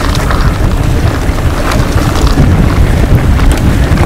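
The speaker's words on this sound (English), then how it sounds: "Wow, it's so windy." Strong wind roars and buffets the microphone throughout during a mountain bike ride in Colorado, a loud, constant low rumble with gusting surges and no voices.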